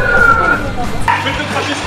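A fire brigade siren sounds close by with a steady wailing tone over background noise, arriving at an emergency scene where people talk.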